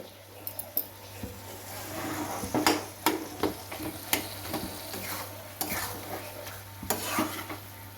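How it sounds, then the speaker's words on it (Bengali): Mutton keema and peas cooking in a pan, stirred with a metal spoon: repeated close scrapes and clanks against the pan over a soft, continuous sizzle, with no voices. "এবার ভালো করে নাড়ি সারি নিতে হবে"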